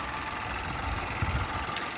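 A petrol car with a 1.2 engine idles steadily nearby, a soft continuous low rumble with faint mechanical ticking and a brief light click near the end.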